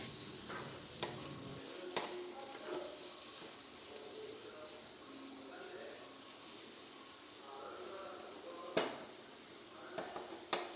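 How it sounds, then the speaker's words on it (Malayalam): Ground spice powders, including pepper, sauté in a pan for egg kurma, a soft low sizzle under light stirring with a few sharp clinks of a spoon against the pan. "ഈ പൊടികളെല്ലാം കൂടിയിട്ട് ഒന്ന് ചെറുതായിട്ടൊന്ന് വഴറ്റിയെടുക്കാം."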